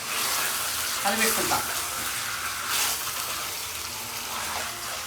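Cinnamon, cloves, cardamom and kasuri methi sizzling in hot oil in a pan as they are stirred for a chicken curry, a continuous close hiss with a few brief scrapes and no talk.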